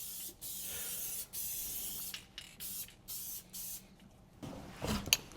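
An aerosol spray can hisses in repeated bursts of varying length, up close and loud, while adhesive goes onto the carpet and floor corners of a 1967 Triumph Spitfire MK3 during carpet installation.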